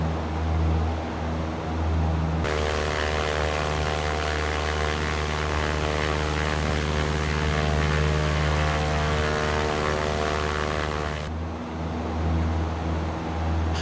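Aircraft engine in a flight simulator video game, a loud steady drone with a strong tonal hum that rises sharply for several seconds of higher power before dropping back to a lower idle.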